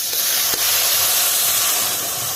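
Moong dal dropped into a hot pan of oil with whole cumin gives a loud, continuous bright hiss and sizzle close up, with one faint knock near the start.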